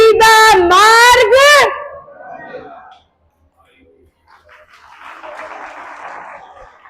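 A church congregation breaks into scattered clapping during a Hindi sermon. A loud voice comes first, then a pause, then a steady patter of applause in the room.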